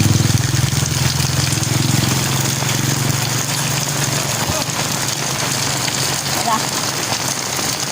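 Tricycle engines idle and run through heavy rain in Eastern Samar, a low engine drone under the dense hiss of rain pounding surfaces, loud and continuous with a voice speaking briefly.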